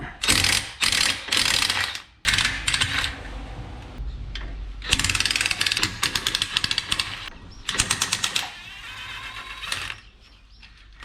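Socket ratchet clicking on a bolt of a 948cc Morris Minor engine, loud and close, in repeated bursts of rapid pawl clicks with short pauses between strokes, no talk.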